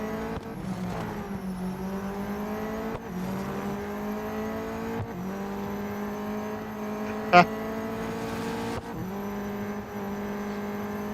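Race car engine in the Real Racing 3 video game, a steady loud droning whine with gear-shift dips and one short sharp blip, heard alone.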